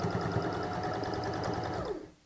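A domestic sewing machine runs steadily, stitching a decorative seam along the folded edge of a tote bag, a fast even whirr with rhythmic needle ticks that slows and stops at the end.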